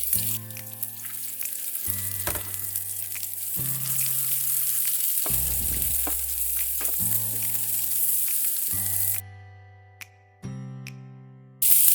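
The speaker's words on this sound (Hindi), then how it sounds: "अब हम इसमें 3 प्याज शामिल करेंगे।" Sliced onions sizzle steadily in hot oil in a pan while chicken jalfrezi is being made, a loud continuous frying hiss broken by occasional stirring scrapes and a brief drop in level near the end.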